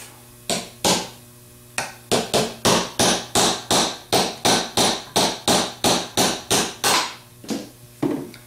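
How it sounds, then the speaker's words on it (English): A hammer taps a part off a Ford 3G alternator in a steady run of about twenty sharp, ringing metal taps, closely spaced and loud, with a short pause near the start. "with a regular hammer just tap it off"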